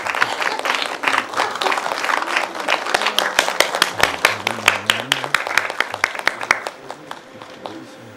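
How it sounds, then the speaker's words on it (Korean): Audience at a lecture clapping to welcome the lecturer, a moderately loud spell of scattered, uneven hand claps building then thinning out over about eight seconds, with some low voices murmuring underneath. "그러면 박수로 선생님 한번 모시겠습니다."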